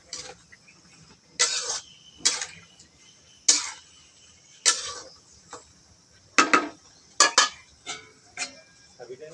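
Metal pot lid clatters and knocks against a cooking pot in a home kitchen, a string of sharp clinks and taps spread irregularly over several seconds, fairly close, with no talking.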